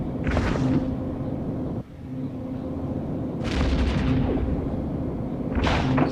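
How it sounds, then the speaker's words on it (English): Weapon fire and a ship exploding in the space game EVE Echoes during dreadnought PvP, with three loud booming bursts rising over a constant low engine hum. "That was a beautiful explosion"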